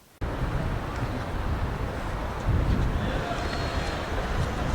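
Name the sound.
strong wind blowing into the microphone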